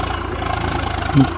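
A farm tractor engine idling after rotavator work, a steady low chugging pulse close by, with a brief voice-like sound near the end.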